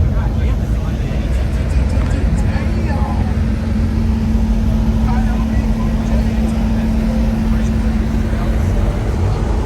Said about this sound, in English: That Mustang engine.